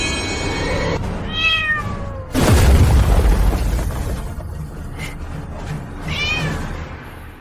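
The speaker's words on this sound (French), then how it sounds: "C'est le chat préféré de ma femme." Cat giving two drawn-out meows, one early and one near the end, separated by a sudden loud boom and crashing burst in between.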